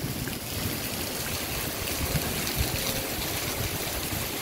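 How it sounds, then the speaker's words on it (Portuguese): Rainwater runoff rushing along in a heavy downpour in Paramirim, Bahia, a steady broadband watery roar that carries on without a break from start to finish. "Aí, menino, olha a enxurradinha."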